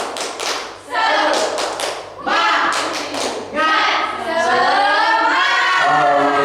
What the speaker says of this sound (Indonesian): Untuk kelompok singa, harimau, coba tepuk semangat.